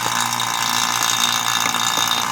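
Vacuum pump drawing air from a chamber for resin casting a shift knob runs with a steady, loud mechanical buzz and fine rattling whir, constant and close, with no voices.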